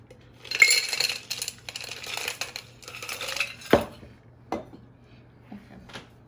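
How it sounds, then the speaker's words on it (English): Ice cubes rattle and clink into a metal cocktail shaker or mason jar for a tequila drink, a scattered run of light knocks followed by a few sharper single clunks, close and fairly quiet. "What you're going to do first is you're going to add some ice to your shaker."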